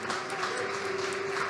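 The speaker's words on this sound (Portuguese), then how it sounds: "Aplauda ao Senhor, Ele é digno." A church congregation applauding in praise during a Portuguese sermon, a dense, steady wash of clapping that fills the whole moment.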